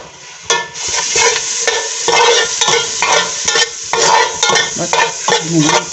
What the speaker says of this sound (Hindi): ये सबसे पहले हमने 1 टेबलस्पून बटर लिया जो हम इसके अंदर डाल रहे हैं देगची के अंदर।